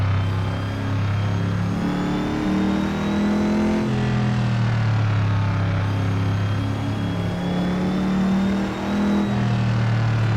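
Holden A9X racing car engine in Assetto Corsa at Bathurst, droning loudly and steadily close up with pitch drops and rises as it shifts down and pulls through the gears, no voices.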